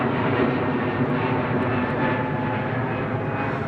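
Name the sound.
large airliner departing Heathrow, likely an Airbus A380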